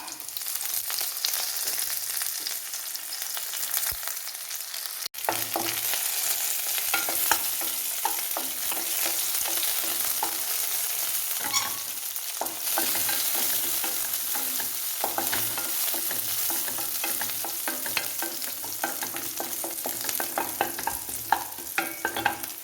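Onions and curry leaves fry in a pan with a continuous close sizzle, joined by scraping stirs and one sharp clink, and no one speaks.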